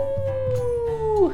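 A human voice imitates a wolf howl: one long sustained tone that slides downward at the end, close and clear.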